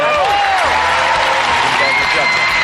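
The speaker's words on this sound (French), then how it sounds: "On applaudit l'équipe des Verts." A television studio audience applauds the Green team in loud, continuous clapping with cheers, while a host's voice rises over it.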